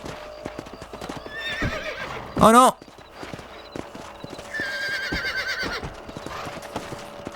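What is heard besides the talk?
horse hooves and whinny in video game Red Dead Redemption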